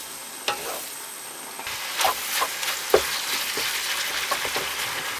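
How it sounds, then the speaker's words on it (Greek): Ground beef mince frying in a pan for pastitsio, a steady crackling sizzle with irregular scraping and clattering bursts as it is stirred, close and fairly loud with no talk. "Μόλις αρχίζει και τηγανίζεται, το ακούτε"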